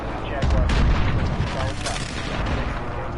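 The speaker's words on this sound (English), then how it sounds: "maybe I can use my airstrike" Video game airstrike explosions land as a heavy boom followed by rolling, rumbling blasts that fade into a continuing low roar, with a voice talking over them.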